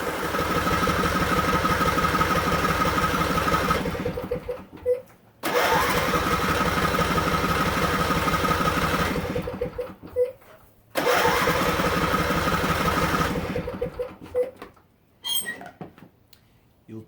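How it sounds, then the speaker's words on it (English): A riding mower engine out of gas cranks over and over without catching, in three long grinding bursts separated by brief squeaky pauses. "You'll turn it over and it will just keep turning and turning and turning."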